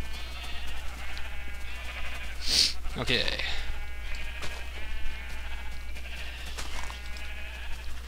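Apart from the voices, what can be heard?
Minecraft sheep bleating, from a video game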